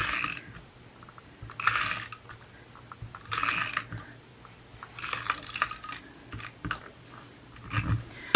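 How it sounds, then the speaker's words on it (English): A small tape runner rolls adhesive across the back of a covered notepad, making short rasping, ratchety clicks in separate bursts with quiet pauses between them. "So I just use my little tape runner here for this."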